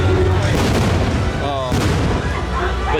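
Nighttime fireworks at Disneyland bursting in dense, overlapping booms and crackles, loud and close, with a crowd murmuring and music faintly underneath.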